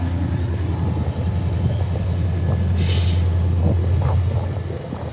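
A freight train switching with SD40-2 locomotives rumbles past in Chattanooga, Tennessee. Loud, steady low-pitched diesel drone and rolling wheel noise fill the clip, with a brief high wheel squeal or brake hiss near the middle, and no one speaks.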